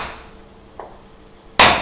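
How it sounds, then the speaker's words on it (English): A flat-faced hammer strikes a wedge being driven into an axe handle, one sharp, loud metallic blow near the end after a quieter rustle and a faint tap, with a ringing decay. "I think that's the most nice way to pound in a wedge, because the hammer has a flat surface, and so you always hit the whole wedge"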